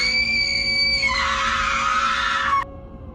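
A shrill, piercing scream rings out in a narrated Indonesian horror story, a sustained harsh wail rising in intensity for over two seconds before cutting off abruptly, loud and alone.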